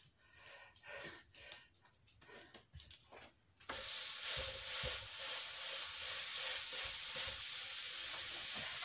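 Venison taco burger patties hit a hot griddle with a sudden loud, steady sizzle that fills the rest of the moment, after a few quieter handling sounds.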